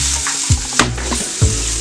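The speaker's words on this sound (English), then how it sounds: "I'm putting some of my peppers, onion, and I'm letting this saute" Peppers and onion sauté in a hot pan for Jamaican-style fish cakes, a loud continuous sizzle broken by a few brief stirring scrapes and clunks.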